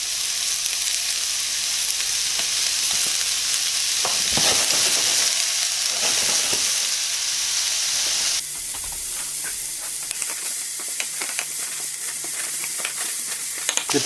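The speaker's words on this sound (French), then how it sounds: "Très important que l'huile soit bien chaude pour faire saisir les légumes" Vegetables for chicken enchiladas sizzle and crackle steadily in very hot oil over high heat, a loud continuous frying hiss with occasional stirring scrapes, the tone shifting partway through as the pan settles.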